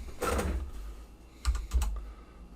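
Someone types on a computer keyboard while entering wall lengths in Revit. A broad rustling burst at the start is followed by a few sharp, close key clicks near the end.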